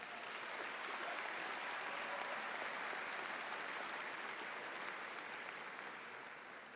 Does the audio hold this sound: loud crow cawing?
no